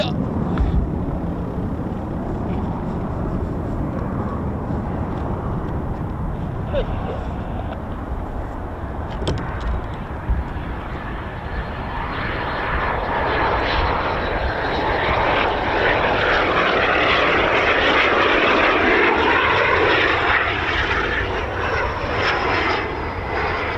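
An aircraft lands at RAF Waddington, its engine noise building from a distant rumble to a loud, broad roar over roughly 24 seconds, with faint talk early on.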